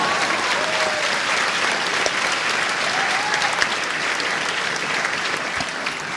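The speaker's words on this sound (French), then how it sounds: "Allez-y, applaudissez, ça me fera plaisir." A live audience at a catch-impro world championship show applauds loudly and continuously, a dense wash of clapping with occasional faint whoops and crowd noise throughout.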